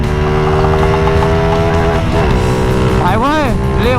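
A motorcycle with a stock cam and aftermarket exhaust pulls away hard in first gear, its engine note climbing and sweeping upward, loud and close, with someone talking over it.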